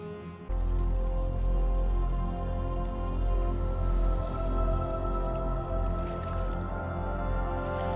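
In a scene from Ahsoka, a person is engulfed by water: after a short quiet start, a sudden heavy wash of sloshing, squishing liquid surges in and keeps churning loudly, with a low rumble underneath and no speech.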